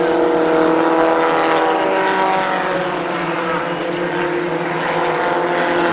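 Several stock cars roar around a dirt speedway oval during a main event at Columbus Motor Speedway, a loud steady drone of engines with layered harmonic whine, continuous throughout with no clear gaps.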